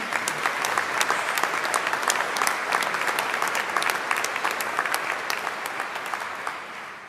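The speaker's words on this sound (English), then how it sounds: "you all deserve a big round of applause again" A large audience in a university great hall at a science graduation ceremony gives sustained, dense applause, a steady wash of many hands clapping that fades slightly at the end.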